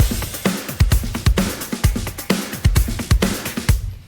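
A full drum groove for a game soundtrack piece, with steady kick thumps, crisp snare cracks and busy hi-hat ticks locked into a driving repeating rhythm for about four seconds before cutting off.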